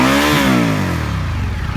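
An Indian FTR 1200 motorcycle engine revs up loud and close, the pitch climbing then falling back into a rough, throbbing idle with some mechanical clatter, and no voices over it.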